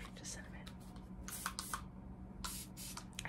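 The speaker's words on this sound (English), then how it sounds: "I say as I spray a little bit more of it." A scented spray bottle is pumped in several short bursts, each a crisp hiss, a few quick ones then longer ones, close to the microphone in a quiet room.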